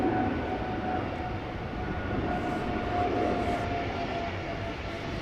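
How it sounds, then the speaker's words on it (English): Embraer 175 airliner taking off at Amsterdam Schiphol, a steady broad jet roar with a faint whine, sustained and fairly distant throughout, no voices. "First of the pack to take off will be this Embraer 175."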